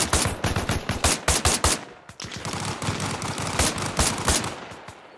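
Rapid shots from an M110 rifle in Arma Reforger, a military video game, come as loud sharp bursts in a fast irregular string, followed by a denser stretch of continuous distant gunfire.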